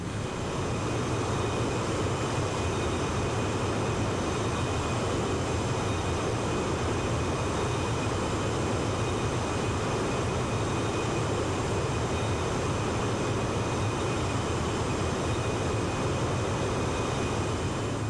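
A flight-simulator aircraft circles an airport in X-Plane 11, its engine a steady, loud, unbroken drone with a constant hum that holds unchanged throughout, with no talking.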